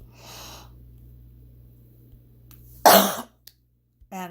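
Someone with a cold gives a single harsh, close cough, preceded by a soft breath and followed by faint throat sounds in an otherwise quiet room.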